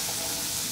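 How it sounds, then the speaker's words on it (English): Garlic and Brussels sprouts sizzle in a hot pan, a dense, steady hiss that is close and continuous for less than a second. "Hear a little bit of that sizzle, that's what you wanna hear."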